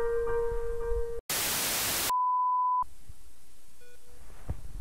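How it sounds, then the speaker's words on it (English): Electronic beeps sound in a video game: a steady held tone cuts off into a burst of loud static, then a clean mid-pitched beep holds for under a second before quieter ambient game noise with faint short bleeps returns. "There's beeping."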